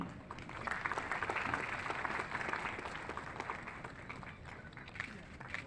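An audience at a National Voters Day celebration applauds as a speaker walks onto the stage, a broad sustained patter of clapping that peaks early and gradually thins, with a voice over it.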